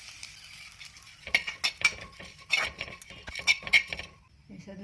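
Chopped dry coconut is stirred and roasted in a pan, with irregular scraping and clinking of a spatula against the metal and light crackling, in uneven bursts close to the listener.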